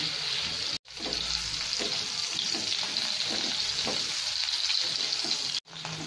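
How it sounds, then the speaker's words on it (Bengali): Cauliflower pieces fry over a medium gas flame in white oil and butter, making a loud, steady hissing sizzle with crackles, interrupted by two brief cuts of silence. "ফুলকপিটা সাদা তেল আর বাটারে ভাজব। এবার আমি ফুলকপিগুলো দিয়ে দিলাম।"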